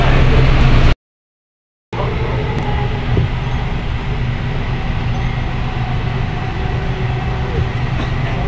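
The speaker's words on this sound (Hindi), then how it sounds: "पहले चलते मेट्रो स्टेशन पहुँच चुके हैं और मेट्रो में भी चढ़ चुके हैं हम" Inside a moving Delhi metro carriage, a loud, steady rumble and rolling hum run throughout, broken by a second-long dropout early on, with no talk over the ride.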